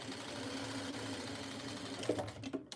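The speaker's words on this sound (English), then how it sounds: "If I go full speed, it gets kind of loud." Close, continuous whir of a sewing machine stitching a quilt square at steady speed, ending in a few quick stuttering bursts.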